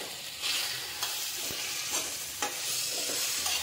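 Chopped tomato fries with spices in a hot pan for a Bengali cabbage curry, a loud continuous sizzle broken by repeated spatula scrapes and stirring clacks, close up with no voices.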